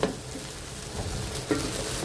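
Vegetables stir-frying in a pan for fried rice, a steady sizzle with scraping stirs and a couple of clanks of utensil on pan, close and alone.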